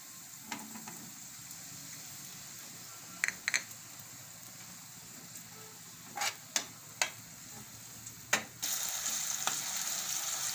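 Tomatoes go into fried onions in a pan over a low steady sizzle, marked by several sharp clacks of a spoon against the pan. A louder surge of frying follows near the end, and no one speaks.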